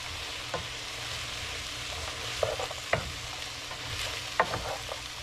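Vegetables fry in a pan during a chicken spaghetti stir-fry while a utensil stirs them, giving a constant close sizzle broken by several sharp scraping clacks against the pan.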